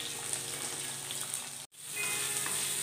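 Onion and ginger sizzle in hot oil in a pan, a steady, close frying hiss with light crackles that cuts out briefly and then resumes, with no speech.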